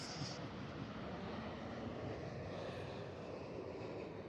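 A Qantas airliner passes overhead as a steady, broad engine roar, holding loud and even throughout with no one speaking.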